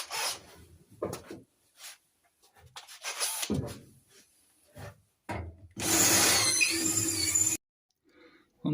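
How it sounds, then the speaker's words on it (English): Drill working through steel body panel of a Simca Plein Ciel in a workshop, a loud sustained whirring burst of about two seconds following scattered scraping and handling knocks. "Got a bigger drill through that."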